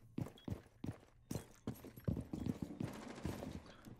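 Footsteps on stairs in the video game Rainbow Six Siege, a run of sharp, evenly spaced thuds with louder impacts amid faint game noise, continuing steadily for a few seconds.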